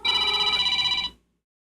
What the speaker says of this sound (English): This is my notification sound.